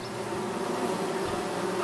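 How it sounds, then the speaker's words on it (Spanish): Wasps buzz steadily and close by in the video game Among Trees, a continuous droning hum with no voices. "ahí hay avispas, ¿eh?"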